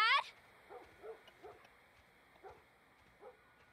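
A dog in The Last of Us Part I barks in a series of about six short, distant yelps spread at irregular intervals over quiet game ambience.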